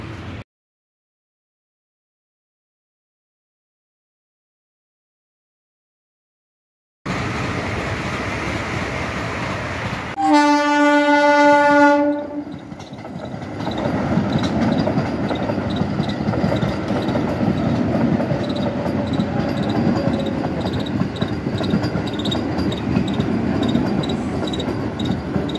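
Amritsar Vande Bharat express passing a railway crossing: after a silent start, a loud horn blast with stacked tones sounds, then a sustained rushing roar of the train going by at close range, with steady wheel and rail noise.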